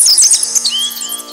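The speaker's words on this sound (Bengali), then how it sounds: "এমন সময় 3টে পাখি কিচির মিচির ডাক দিল" Several small birds chirp and twitter in quick, high, bright calls close by, a busy flurry at first that thins into a few sweeping notes over a steady background hum.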